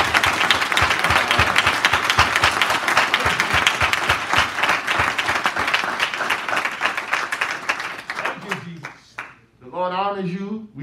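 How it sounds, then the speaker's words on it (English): Loud, dense applause from a crowd at a funeral service, sustained clapping that fades out near the end as a voice begins speaking. "please clap your hands if you love moving in Jesus' name"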